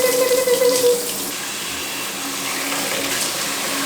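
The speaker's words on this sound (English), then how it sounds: "Fill it up with lukewarm water." Lukewarm water runs steadily from a tap into a bowl with a little soap in it, a loud close rushing splash that holds without pause.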